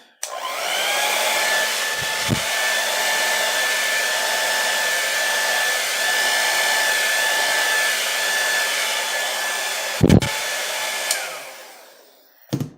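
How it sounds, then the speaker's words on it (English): A steady, loud whoosh of blown air from a hair-dryer-like blower runs for about ten seconds over wet acrylic pour paint, with a couple of brief bumps and a tapering finish, with no talking. "I'm gonna actually blow right there to get the white evened out, leveled out, etc."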